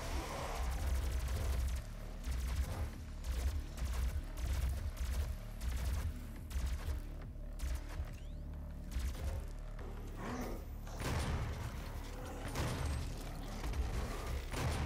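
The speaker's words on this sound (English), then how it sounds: "How dare you try to shoot me?" Enemy gunfire in Doom (2016) comes as rapid bursts of shots mixed with mechanical clanks and clatter. The bursts are loud and irregular and come in several volleys, with quieter gaps between them.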